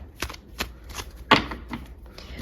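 A tarot deck is shuffled close by, giving a run of crisp, irregular card riffles and taps, with one sharper snap midway.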